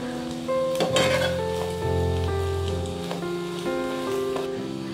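An egg sizzles and fries in a pan on the stove, giving a continuous soft crackling hiss that sits under steady background music.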